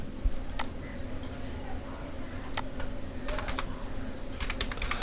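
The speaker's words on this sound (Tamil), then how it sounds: "அந்த மொபைல் நம்பர் கரெக்டாக டைப் பண்ணிங்க" Typing on a computer keyboard in an office service centre, scattered clusters of light key clicks over a steady background hum, fairly close and moderately quiet.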